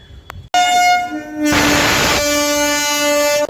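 A loud, sustained train horn blares after a brief pause, holding its tone for about three seconds amid rushing station noise.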